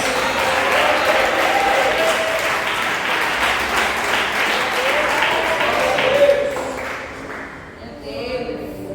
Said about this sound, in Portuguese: E bate palmas e dê glórias a Deus.